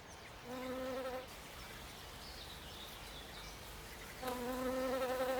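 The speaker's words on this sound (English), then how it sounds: "Every day, worker bees set out in search of nectar." Worker honeybees foraging for nectar in a flowering meadow, their buzzing heard in two close passes at the start and end with a fainter insect hum in between.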